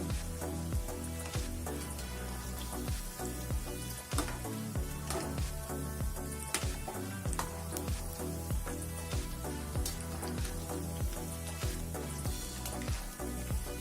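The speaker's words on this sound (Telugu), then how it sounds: "కొంచెం మీడియం ఫ్లేమ్ మీద వేయించుకుంటే కొంచెం రెడ్గా లోపల కూడా కాలిపోతుంది." Mysore bondas made from wheat flour with semolina fry in oil over a medium flame, giving a steady, dense sizzle full of rapid crackles and pops that carries on throughout at close range.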